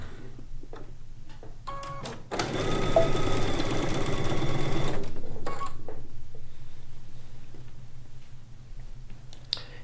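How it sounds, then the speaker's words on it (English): A home sewing machine runs for several seconds as it stitches the final long seam of a quilt top, a steady mechanical hum framed by a few clicks before and after. "I'm going to stitch the last seam on this quilt top."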